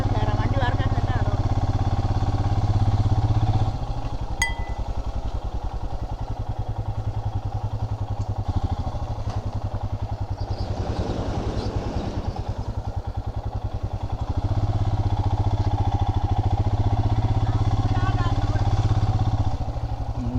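A motorcycle engine runs steadily at idle, near and loud, dipping in the middle as the bike pulls in to park on a tour from Kochi to Munroe Island in Kerala, with voices heard faintly underneath.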